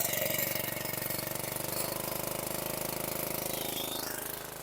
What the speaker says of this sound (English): I didn't have the RPMs up high enough, but it's building up pressure.